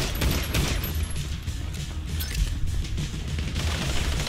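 Dense, continuous gunfire crackles through a GTA V team deathmatch, with overlapping shots and booms filling the whole stretch at steady loudness.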